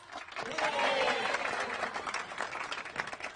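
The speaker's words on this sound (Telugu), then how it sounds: "క్లాప్స్." Clapping applause from a group of friends celebrating a couple's love success, a short burst of dense claps that swells then thins out.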